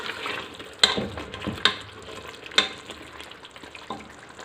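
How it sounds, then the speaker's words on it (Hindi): Turai gosht, ridge gourd with meat, simmering uncovered in a pan as its water cooks off, giving a steady gentle sizzle and bubbling, broken by a few sharp clinks of a utensil against the pan. "ढक्कन उतार के अब इसको पका लेंगे ताकि जो पानी है वो ड्राई हो जाए"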